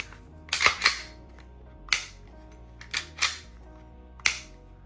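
Glock 19X MOS pistol fired at a shooting range, six sharp loud reports in an uneven sequence, some close together in pairs and others spaced apart, each decaying quickly.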